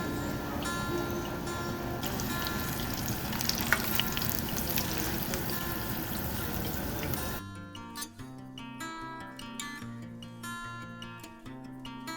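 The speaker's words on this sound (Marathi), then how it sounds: "गरमागरम भजी आणि त्याच्याबरोबर छान अशा हिरव्या मिरच्या तळून घेते" Bhaji fritters and green chillies frying in hot oil, a loud dense crackling sizzle for about seven seconds, then cutting away to music.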